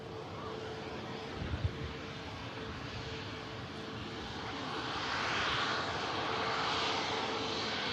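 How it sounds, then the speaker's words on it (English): A Ryanair Boeing 737 MAX 8-200 airliner arrives at Manchester Airport, a faint distant jet engine roar that swells gradually and grows louder toward the end, with some wind noise. "This Ryanair Max arrives in from Prague. That's Boeing 737 MAX 8200"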